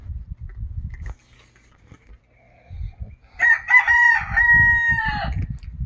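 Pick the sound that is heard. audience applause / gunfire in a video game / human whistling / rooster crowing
rooster crowing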